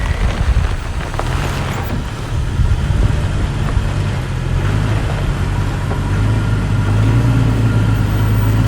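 An off-road vehicle engine runs steadily while climbing a steep obstacle using left-foot braking, a low continuous rumble that swells slightly as throttle is added, with wind buffeting the microphone throughout.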